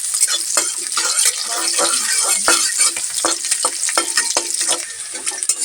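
Onion and ground spices frying in a pan, a loud continuous sizzle broken by frequent scraping stirs of a spoon, close up and without speech.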